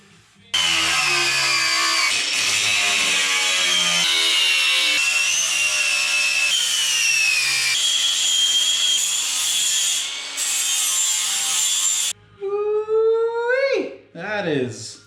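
Power tool cutting steel sheet for a rusty Chevy S10 cab floor, a loud, continuous high-pitched grinding whine with shifting tone for about twelve seconds, then a shorter burst of sliding squealing pitch; close and dominant.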